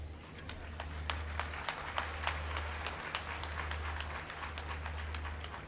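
An audience at a student scholarship program event applauds, with sharp individual claps spread across a steady patter beneath a low hum.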